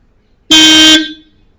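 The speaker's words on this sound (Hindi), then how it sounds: "अब देखते हैं सक्सेस हुआ भी है कि नहीं, और अपना हॉर्न बजाते हैं" A car's dual horn, newly wired through a relay, gives one loud, close honk of about half a second that cuts off sharply.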